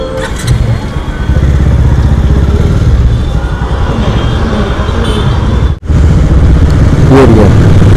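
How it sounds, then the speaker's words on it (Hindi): A motorcycle used for Uber rides is ridden through traffic, its engine droning close and loud beneath steady road and wind noise, with a short dip near the end. "उबेर बाइक वो चला रहा हूँ"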